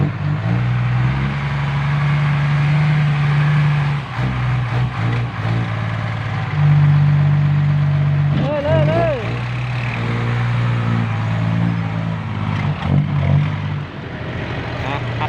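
Heavy diesel machinery rumbles steadily at a road construction site, a tractor engine running alongside an excavator, loud and close with shifting engine load and brief higher-pitched whines, while workers call out over it.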